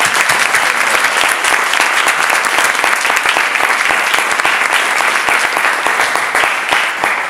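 An audience at a Slovenian–Spanish literary dialogue event claps in welcome, a dense, sustained, even round of applause filling the room with no talk over it.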